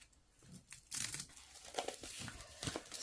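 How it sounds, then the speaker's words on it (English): Cellophane wrap is peeled and crinkled off a large-format art book, producing close, irregular crackling and tearing rustles that swell after a quiet start. "So let's just take the cellophane off here."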